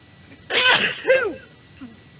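A single sharp sneeze, close and fairly loud, bursting out with a breathy onset and a brief voiced tail, followed by quiet.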